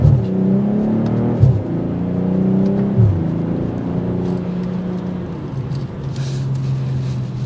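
Exhaust note of a 2023 BMW M440i Gran Coupe while driving, heard from inside the cabin as the engine climbs through gears with two clear upshift drops, then settles into a steady cruising drone; no talking.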